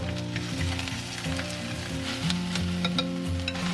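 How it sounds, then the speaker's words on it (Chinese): Aromatics sizzling and being stirred in smoking-hot cooking oil inside a clay pot, a steady close crackling hiss with scraping stir noises, no talking. "我们先把这个料头给它放下去炒香"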